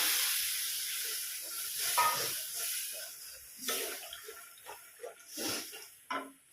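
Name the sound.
tamarind water poured into simmering okra curry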